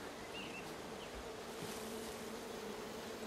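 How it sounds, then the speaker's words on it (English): Bees buzz outdoors in a steady, close insect drone that holds at an even level throughout, with a faint hum underneath and no voices. "There's bees over there."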